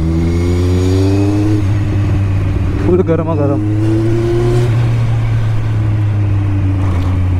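A Kawasaki Z1000 motorcycle engine hums steadily and loudly up close, with a rev that climbs and falls midway, under someone talking throughout.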